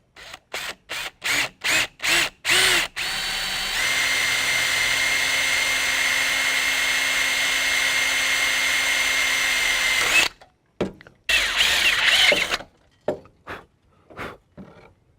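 A power drill bores through a truck hood near the battery, with a scrap aluminum sheet behind it to catch the bit. Short trigger bursts come first, then a long steady whine, then a few more stuttering bursts, all close and loud.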